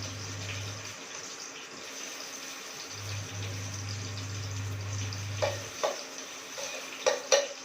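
Potatoes fry in oil on an induction cooker with a soft, steady sizzle over a low electrical hum, and a few sharper clinks of stirring near the end.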